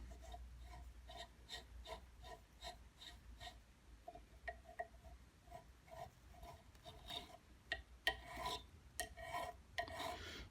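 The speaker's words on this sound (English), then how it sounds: "I think I can just spin it by hand like this" Repeated rhythmic rasping of sandpaper against a washing machine motor commutator spun by hand, short scratchy strokes close up, growing busier and louder toward the end.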